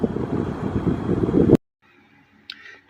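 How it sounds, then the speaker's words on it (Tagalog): Strong wind buffets the microphone at a scenic outdoor spot in Hong Kong where people fly a kite, a loud rough rumble for about a second and a half, then cutting to near quiet. "Sobrang napakalakas ng hangin, mga idol."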